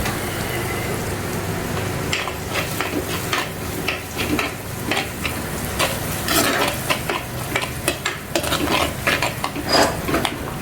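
Fish curry gets stirred in a hot pan, a spoon scraping and clinking against the metal in a busy, uneven rhythm over a steady low sizzle, close and fairly loud with no voices.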